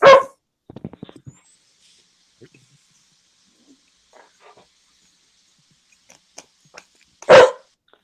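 A dog barks in a horror film, a sharp bark at the start, then scattered whimpers and faint yips, and a second loud bark near the end amid quiet stretches.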